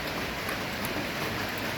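Rain patters outdoors as a dense, even wash of hiss, steady throughout and fairly close, with no voices.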